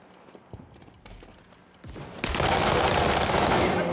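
Sustained gunfire rages in the World War 3 video game, a dense, loud fusillade that swells abruptly after scattered shots and quieter activity, continuing as a thick wall of noise to the end.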